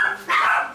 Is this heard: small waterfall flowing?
no